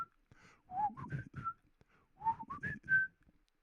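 Someone whistles the tune of a song, two clear melodic phrases with a short pause between, close and fairly loud with no talk over it.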